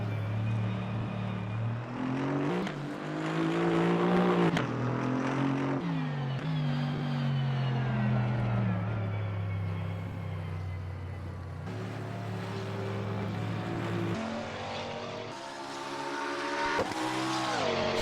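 A McLaren race car engine in a sim racing game at Brands Hatch, droning steadily with rising and falling revs through gear changes, loud and continuous over the whole stretch.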